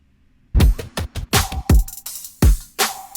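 Electronic drum fills over a punchy kick in a pop production: a quick run of bright snare and tom hits mixed with deep kick thumps, dense and loud, with no talking.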